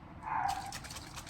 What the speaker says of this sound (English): Wonder what she's barking at.